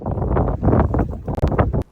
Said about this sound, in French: On m'aura saoulé ce vent aujourd'hui